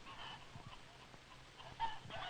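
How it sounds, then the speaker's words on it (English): A few soft clucks from a rooster on a poultry farm, faint and intermittent against a quiet background. "The father chicken, the rooster."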